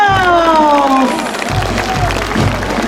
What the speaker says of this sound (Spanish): ¡Olé! ¡Los aplausos!